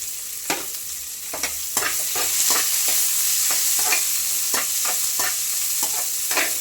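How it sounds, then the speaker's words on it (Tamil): Fenugreek, dried chillies, onion and garlic fry in a pan for venthayam paruppu, a continuous loud sizzle broken by regular sharp scrapes of a spoon stirring, close and without talk. "வெங்காயம் போட்டு பூண்டு வெங்காயம் போட்டு நல்லா வதக்கணும்."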